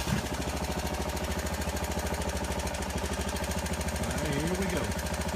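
Intrepid hydraulic lifting machine runs steadily to raise a settling brick wall, a loud, continuous rapid engine-like pulsing throughout, with a brief rising hydraulic whine near the end.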